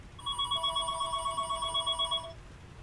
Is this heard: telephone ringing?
yes